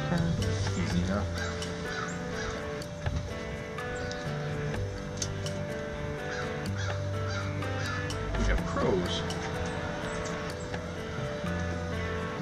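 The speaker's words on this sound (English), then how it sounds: "Lots of crows." A flock of crows caws repeatedly outdoors at a pottery raku firing, harsh calls scattered throughout alongside talking and background activity.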